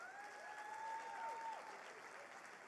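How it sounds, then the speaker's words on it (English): Faint audience applause at a summit event, a soft, even wash of clapping with some thin whistling tones rising and falling over it, and no speech. "Everybody give Ty Smith a round of applause."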